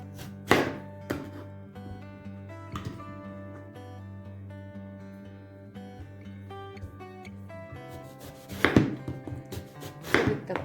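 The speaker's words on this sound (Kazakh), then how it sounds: "Енді баклажанымызды турап алатын боламыз." A knife chops eggplant on a board for an eggplant and tomato salad, sharp knocks in a quick cluster at the start, a few scattered cuts, then another dense burst near the end, all under steady background music.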